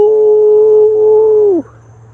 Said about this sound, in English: That's the sound of a Cash App donation.